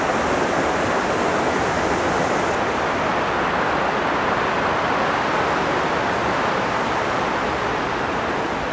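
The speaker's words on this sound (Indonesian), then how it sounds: "Air mengalir" Water rushes through the narrow rock walls of the Grindelwald glacier gorge beneath the Eiger, a constant broadband roar, loud and unchanging with no pauses.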